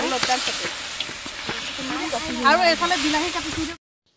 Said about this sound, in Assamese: এতিয়া মই মাংসখিনি ভাজি লৈছোঁ